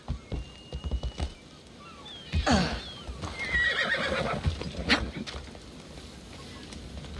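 A horse in Assassin's Creed Odyssey neighs loudly in a clear whinny, with clip-clop hoofbeats and ambient game noise around it and no talk over it.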